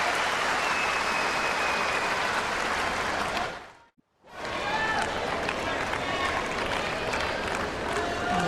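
A tennis crowd at the Australian Open women's quarter-final applauds and cheers loudly in a dense, steady wash of clapping, which cuts out abruptly for a moment in the middle before resuming just as strongly.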